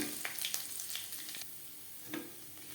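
Grated ginger frying on low flame in a pan while being stirred, a faint steady sizzle with a few soft scraping strokes of the spatula.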